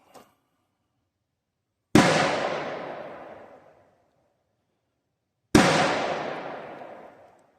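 A restored 1954 Colt 1911 pistol fires two loud, sharp shots a few seconds apart at an outdoor range. Each report rings out and decays slowly into silence.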